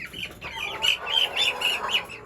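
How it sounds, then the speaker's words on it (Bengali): Young chickens on a poultry farm peep in a quick run of high, close chirps, several calls overlapping in short bursts. "এই বাচ্চাটা হলো মুরগি।"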